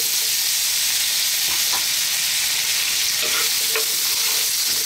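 Potatoes fry in hot infused oil over fairly high heat, giving a loud, dense, unbroken sizzle with a few faint stirring taps near the end.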